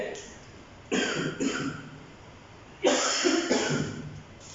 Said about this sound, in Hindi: जो खांसी आपको देख रहे होंगे मुसलसल आ जा रही है